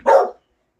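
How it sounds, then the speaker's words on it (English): One sharp, close bark from a hound dog indoors, a single short burst that cuts off abruptly into silence. "You hear my hound dog?"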